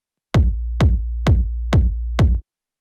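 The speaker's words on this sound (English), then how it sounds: "So I'm gonna change here to sine wave to basically have the single frequency." Five evenly spaced synthesized sine-wave kick drum hits, each a clean deep thump with a falling pitch sweep, played alone and close with short silences before and after.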